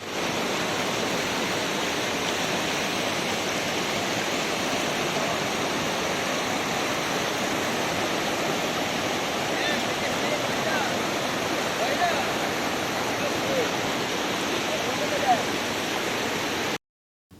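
A river in Sikkim rushes past close by, a loud, constant broadband roar of flowing water that carries on unbroken until it cuts off at the end.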